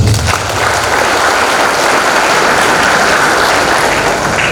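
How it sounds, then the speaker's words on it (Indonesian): Steady, dense audience applause at an Indonesian leadership training seminar in Baturaja, filling the room evenly and loudly throughout, with no talk over it. "Tepuk tangan untuk Anda semua."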